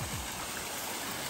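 Fresh spring water running in an outdoor Montana stream, a steady broadband rushing flow heard close and continuous, with no voices.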